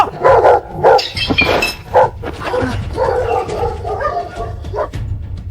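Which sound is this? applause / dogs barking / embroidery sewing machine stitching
dogs barking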